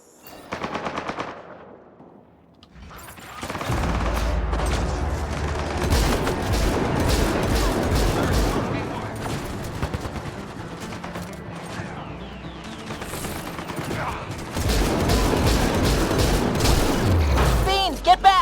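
Turret gunfire in the video game Mass Effect Andromeda, rapid automatic bursts rattling loud and close with booming impacts, pausing briefly between volleys, while voices talk over the combat.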